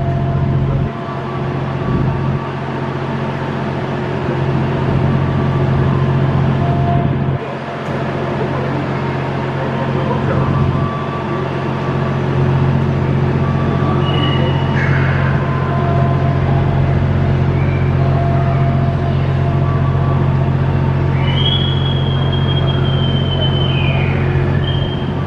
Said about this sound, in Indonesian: Kereta cepat masuk stasiun KCIC Padalarang.